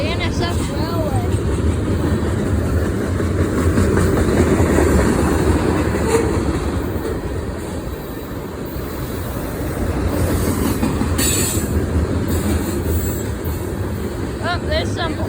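BNSF Railway freight train rolling past with a continuous heavy rumble and steady wheel clatter over the rails, with faint squeals, while a person talks over it.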